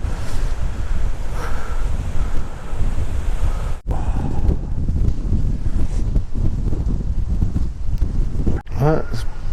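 Wind blows across open moorland on Dartmoor near Sourton, a rough, gusting roar that buffets the microphone with brief dips, while a person talks faintly.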